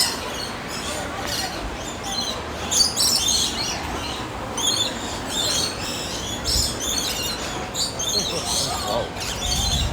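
Birds at Busch Gardens chirp repeatedly in quick, bright bursts across the whole stretch, close and clear over a noisy outdoor background.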